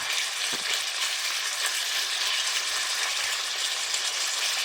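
Buffalo chicken breast frying in a pan, a steady close sizzle with crackling spatter and occasional soft clicks, continuous and even throughout.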